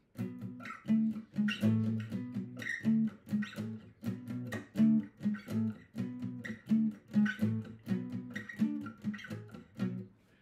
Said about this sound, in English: Verse, palm muted, downstroking.